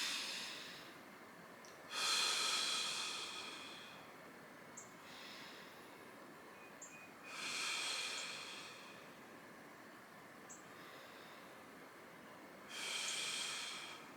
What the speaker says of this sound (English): just take a couple deep breaths in and out.